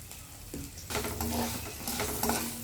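Asafoetida and turmeric fry in a little oil for pulihora tamarind rice, a Navaratri offering. A soft, brief sizzle mixes with stirring scrapes and light clinks of a pan.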